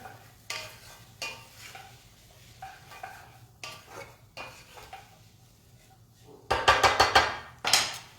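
Clam chowder with chunks of clam is stirred in a pot, giving scattered scraping and clinking bursts, with louder clattering toward the end.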